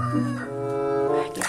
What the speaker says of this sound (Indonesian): Lihat, ada induk ayam.